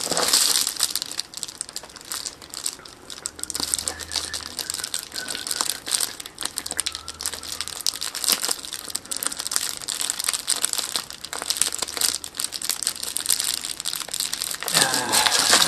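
Plastic packaging crinkling and crackling as a phone case is opened, a dense, continuous rustle that stays close and fairly loud throughout, with a sharper burst of handling near the end.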